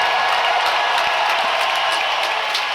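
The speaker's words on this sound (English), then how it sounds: "Listen to the crowd." A large crowd at a strongman competition applauds and cheers in a loud, dense, continuous roar that fills the space without letting up.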